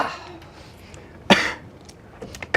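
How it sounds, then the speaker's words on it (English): A single sharp cough or throat-clear bursts out in a quiet room, followed by faint rustles and another brief noise at the end. "Cough if you gotta."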